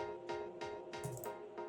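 Synth run through an Arturia Tape Delay 201 effect, a quiet, steady pulsing pattern of soft repeated hits with a smeared, echoing tail, faint and alone.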